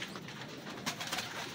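Soft cooing of racing pigeons over a steady outdoor hiss in Carmona, Cavite, low murmuring calls repeating faintly with no one speaking.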